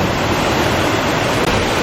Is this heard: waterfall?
yes